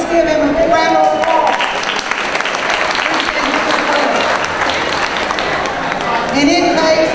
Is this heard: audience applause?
yes